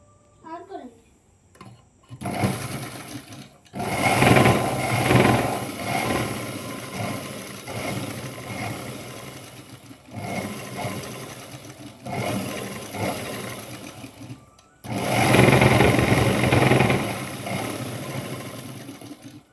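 Sewing machine stitching the lining of a Punjabi dress, loud close whirring in several bursts separated by short pauses, with brief talk early on.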